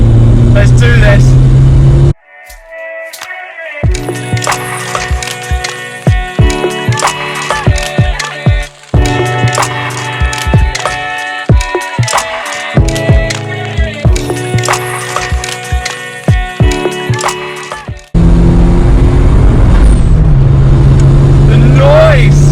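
A Ford Escort RS Cosworth engine roars loudly, revving hard through gears with sharp crackles and pops between shifts, without talking.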